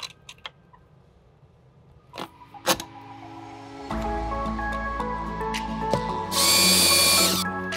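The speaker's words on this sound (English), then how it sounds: "as we're screwing the woofer screws in" Power drill driving woofer screws into a panel on a 2021 Moomba boat during a speaker install; a few faint taps come first, then a steady motor whir and a louder, higher-pitched whine near the end, with no talk.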